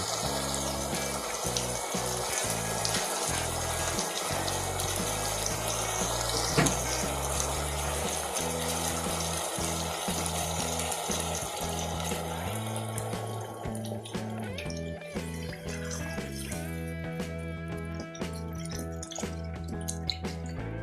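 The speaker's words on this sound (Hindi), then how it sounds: "पानी शामिल करती हूँ।" Steady splashing and gurgling of water running into a cooking pot of arvi chicken curry, continuous and close for the whole stretch, with clinks partway through.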